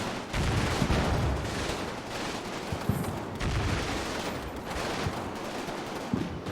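Gunfire and tank fire in a war strategy video game rattle continuously, with dense overlapping bursts and heavier booming shots rolling at moderate volume and no voices.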